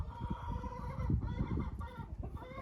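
Laying hens in a henhouse cluck steadily while eating a clean grain mix. Many close, overlapping clucks and grunts form a dense flock chatter throughout.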